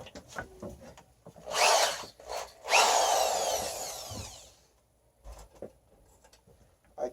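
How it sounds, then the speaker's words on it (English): A power drill drives drywall screws into wood while a small children's table is being built, with two whirring bursts of a couple of seconds each, the second longer and fading, between light handling knocks and clicks up close. "I got a drill bit that'll work."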